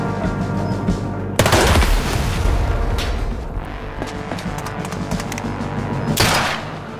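Cannon fire in a real-time naval battle in a video game, loud booming blasts with rapid crackling volleys, a heavy burst early and another near the end over continuous battle noise.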